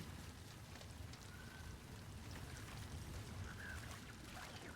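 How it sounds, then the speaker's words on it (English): Water dripping and trickling off a crashed dropship in Halo, a faint, steady watery patter with soft pouring texture and occasional small drips, no voices. "All the water dripping off of it."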